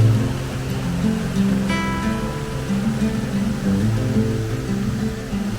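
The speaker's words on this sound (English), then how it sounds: "So that's the waterfall." Goit Stock waterfall heard up close as a steady, broad rush of falling water, constant and fairly loud, with a few faint tonal sounds drifting over it.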